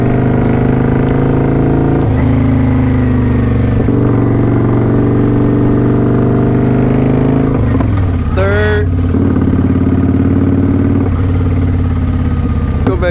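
A motorcycle on a freeway pulls hard in first gear, then shifts into second, its engine drone dipping briefly at the change before climbing again. Loud and close throughout, with strong wind rush.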